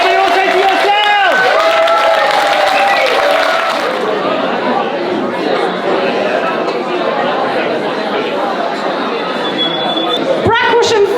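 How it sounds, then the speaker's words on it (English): An audience at a ukulele weekend show claps, cheers and chatters together in a loud, steady roar, with occasional whoops rising over the noise. "Please give an even bigger round of applause than you just did"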